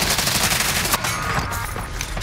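Call of Duty: Modern Warfare gunfire crackles as steady rapid automatic bursts, loud and dense, running nearly unbroken through the moment with a sharper shot standing out midway.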